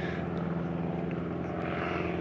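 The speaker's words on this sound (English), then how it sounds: "All right, plane's gone." An airplane flying overhead, a steady broad engine drone that holds loud and even throughout, with no talking.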